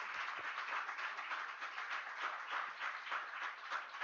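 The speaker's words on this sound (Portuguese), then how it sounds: "Uma salva de palmas para a Hélida." An audience claps at a conference session on financing the recovery of degraded pastures, a steady, even wash of applause heard faintly and thinly with no voices over it.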